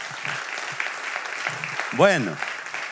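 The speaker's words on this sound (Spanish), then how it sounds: "Denle un aplauso al Señor." A church congregation applauds during a Spanish-language sermon, a moderate continuous clapping bed beneath a voice speaking briefly, with a short musical swell near the end.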